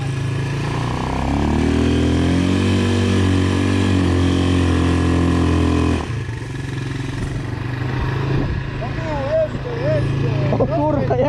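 A Chinese quad bike engine revs up with a rising, buzzy drone for several seconds, then drops back to a rougher idle as people talk nearby.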